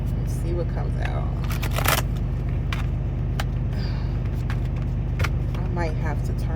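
A truck engine idles steadily with a constant low rumble throughout, overlaid by nearby clicks and shuffling handling sounds.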